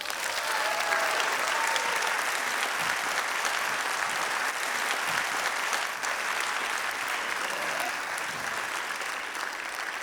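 Lecture audience at the ZAM Nelson Mandela Lecture gives a warm round of applause for the incoming speaker, a full, sustained clapping that stays loud and even for the whole stretch.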